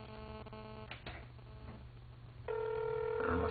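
Telephone ringing heard through a speakerphone, a tinny tone pattern with faint clicks that gives way to a louder, sustained ring tone near the end.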